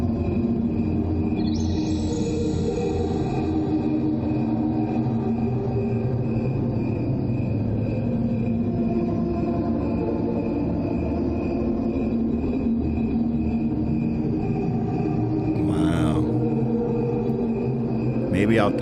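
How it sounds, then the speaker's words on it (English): Crickets slowed down into a low, continuous, layered hum with a steady pulsing texture that runs throughout, joined by a brief high chirp near the start and another burst toward the end. "one is crickets at regular speed, and one is crickets slowed down."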